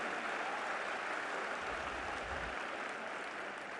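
Faint, distant applause from a crowd at an Independence Day speech event in Delhi, a steady wash of clapping heard from afar.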